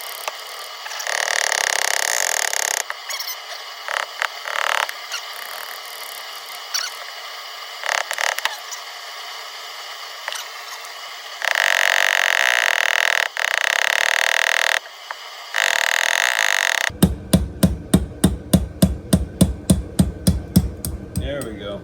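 Light hammer taps on the carburetor of a 2003 Arctic Cat Z440 snowmobile, a rapid series of about a dozen sharp close metallic knocks at the end, after scraping and fiddling handling noises.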